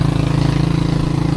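A vehicle engine idles with its exhaust pipe submerged in floodwater, giving a loud, low, rhythmic throbbing rumble with steady pulsing, close and continuous.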